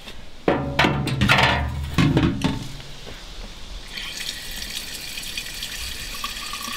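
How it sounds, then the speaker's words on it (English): Water pours into a mead vessel from a tap, starting with a few clattering knocks of handling, then settling into a steady, close hiss of running liquid filling the container. "I'm going to fill my vessel now with water up to the top here."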